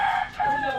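A rooster crows loudly and close by at a market stall selling chickens, a single sustained call that fills the moment with no talk over it.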